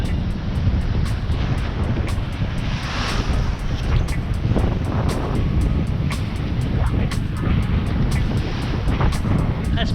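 Strong wind roars steadily aboard a sailboat at sea off Papua New Guinea, with wave wash and gusts buffeting the microphone throughout; no one talks.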